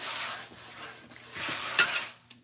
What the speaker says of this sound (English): The sizzle will let you know it's working.